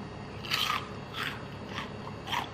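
Crunchy fried chicken wings and chicken skin bitten close to the mic, four crisp crackling bites at a steady pace, with no talking.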